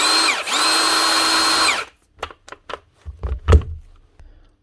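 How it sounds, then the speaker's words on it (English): A Milwaukee M18 Fuel half-inch cordless nut gun, model ONEFHIWF12, whirs loudly and steadily for about two seconds, then stops, followed by a few light clicks and knocks. "One Milwaukee cordless nut gun, the Fuel M18 ONEFHIWF12 half-inch Milwaukee nut gun."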